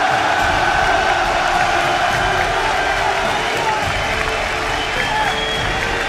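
An esports tournament crowd at an All-Star 2014 League of Legends final cheers and applauds loudly and continuously, a dense roar of clapping and whoops throughout.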